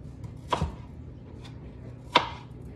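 A knife chops strawberries on a cutting board with two sharp, distinct knocks and a faint tap between them, close by in a quiet room.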